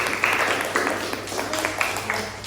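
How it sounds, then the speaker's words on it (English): Students in a grade 12 math lesson clap together, a short burst of fairly loud applause with a few sharper claps standing out and some voices in the room. "Give applause for myself."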